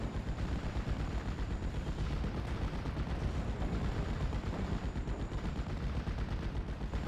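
Sustained gunfire from the World War II strategy game Steel Division Normandy 44, a dense, continuous rattle of rapid shots and rumbling fire without pause at moderate level.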